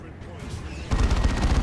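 A Space Marine Dreadnought's assault cannon in Dawn of War 2 opens up after a brief lull, unleashing a loud, dense, continuous rattle of rapid shots that fills the rest of the moment.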